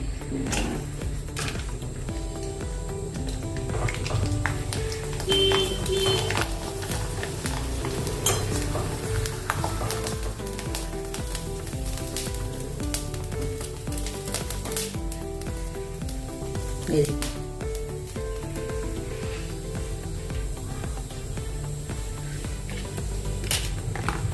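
Sabudana papad fry in hot oil, a continuous loud sizzle and crackle throughout, with occasional clinks of a utensil against the pan.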